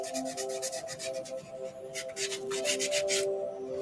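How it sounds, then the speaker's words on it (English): Steady hand sanding, repeated rhythmic rasping strokes on a surface, close and fairly quiet, with a faint hum underneath. "you want to get a good contact, sanding it all over."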